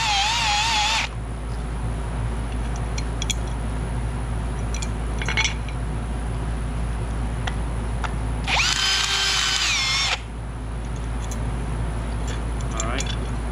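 A power drill countersinking holes in astromech droid ankle parts, two loud whirring bursts at the start and again midway over a constant low hum, with someone talking between them.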